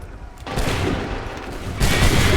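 Musket volley from massed soldiers in Assassin's Creed 3 Remastered, a dense crackling burst of overlapping shots that swells, eases, then surges again near the end, loud and close with no speech.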